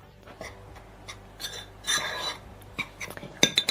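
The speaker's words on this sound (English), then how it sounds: "Add the baking powder to the flour and gently mix it like this." Baking powder being gently mixed into flour in a bowl, soft scraping and rubbing strokes with light clinks of a utensil against the bowl, close and intermittent, no speech.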